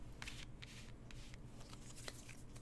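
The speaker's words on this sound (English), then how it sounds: "if the card shuffling's too loud" Tarot cards shuffled by hand, a soft continuous riffling and sliding of card stock with small crisp flicks, faint and close, alone under a low steady hum.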